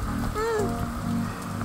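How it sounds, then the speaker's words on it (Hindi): Heavy monsoon rain falls steadily on a trail near a beach in Gokarna, a dense, continuous patter close by, with a faint brief voice in the background. "यहाँ हम लोग रुक गए क्योंकि बारिश बहुत तेज हो रहा है"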